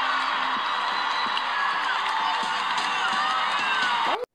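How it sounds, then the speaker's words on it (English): A large audience at a talent show audition cheers, whoops and shouts wildly in a loud, sustained roar that ends abruptly. "And the crowd goes wild."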